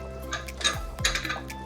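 A metal lid goes onto a pot of simmering chicken gravy, giving a couple of sharp clinks and a scrape of metal against metal over a quiet kitchen background.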